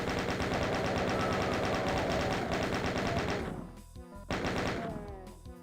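Rapid automatic gunfire from the video game Doom, loud and sustained bursts with a brief pause, over a dense game soundtrack.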